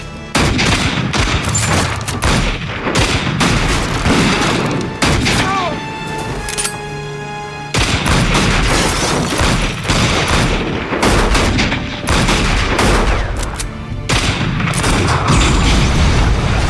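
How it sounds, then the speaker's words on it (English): Gunfire rings out during a movie shootout, dense bursts of shots and booms with a short lull midway, loud and mixed with shouting voices. "Stop shooting!"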